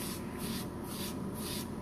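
Quiet, close scratchy rubbing strokes repeat in a steady back-and-forth rhythm as sandpaper is worked over a freshly primered piece.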